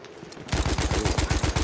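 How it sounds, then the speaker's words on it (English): Rapid automatic gunfire in Battlefield 1, playing as the German Empire on the Soissons map, kicks in after a short quiet lead-in and runs as a loud, steady burst of evenly spaced close shots to the end. "I shot that guy's helmet off."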